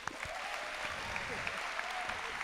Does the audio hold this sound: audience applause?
yes